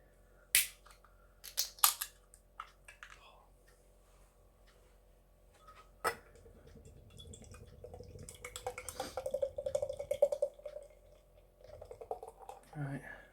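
A can of Sureshot double IPA cracks open with a few sharp clicks and a hiss, then beer pours and fizzes steadily into a glass, growing louder toward the end.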